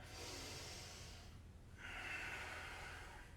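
Two long, noisy breaths during a vinyasa yoga class, a deep airy inhale followed after a short pause by a rougher, louder exhale, close and alone with no talk.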